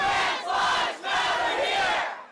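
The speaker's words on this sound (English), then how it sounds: "This crowd rallying in support of trans people" Protesters rallying in support of trans people at a university, a loud massed crowd shouting and chanting together in two long sustained swells, close and dense with no single voice standing out.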